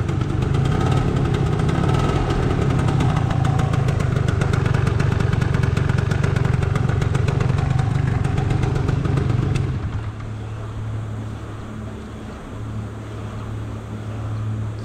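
A dragster scooter engine idles close by with a loud, rough buzzing putter, then drops abruptly to a quieter, lower, uneven idle for the last few seconds.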